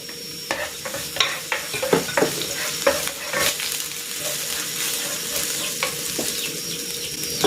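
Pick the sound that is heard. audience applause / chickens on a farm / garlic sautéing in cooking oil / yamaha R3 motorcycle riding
garlic sautéing in cooking oil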